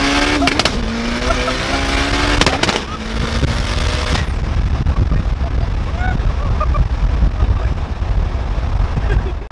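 An 800+ AWHP Mitsubishi Evo with rolling anti-lag revs hard with sharp popping bangs, then drops into a rougher, rumbling engine roar that carries on to the end.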